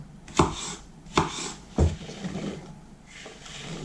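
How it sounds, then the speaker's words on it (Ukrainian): Three sharp knife chops on a cutting board as young zucchini is cut into cubes, evenly spaced, followed by quieter scraping and light tapping; close and distinct. "Цукіні у мене молоденькі. Нарізаю ось таким кубиком."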